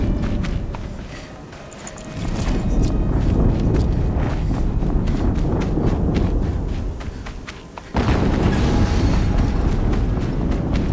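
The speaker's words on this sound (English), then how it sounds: "Explosion." Explosions in the video game Horizon Zero Dawn deliver a heavy, rumbling blast that swells and holds, followed by a second loud burst, with crackling debris and impacts continuing throughout.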